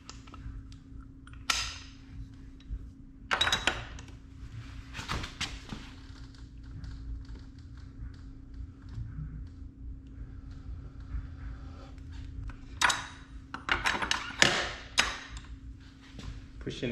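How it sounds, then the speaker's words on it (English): A 2009 Kawasaki ZX6R rear sprocket nut being broken loose while the rear brake is held: sharp knocks and bursts of effort come in irregular clusters over a steady low hum. "I'm going to break this nut loose"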